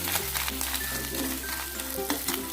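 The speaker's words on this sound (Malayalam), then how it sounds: "തേങ്ങ അതിനകത്ത് ഇട്ട് വറുത്തെടുക്കണം." Grated coconut roasting in a pan for a jackfruit seed and mango curry, a continuous steady sizzle with occasional stirring scrapes, close and even in level.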